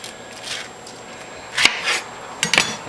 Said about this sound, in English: this looks like a small enough pineapple I can get 3 slices out of it